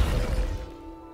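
A Descendo spell lands in Hogwarts Legacy with a brief crashing whoosh that fades out within about a second, leaving a faint tonal ring.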